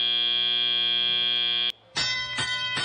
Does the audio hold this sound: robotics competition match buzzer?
yes